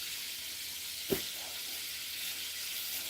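Food frying in a pan on a home stove gives a steady, faint broadband sizzle throughout, with one brief louder clatter near the start and no talking.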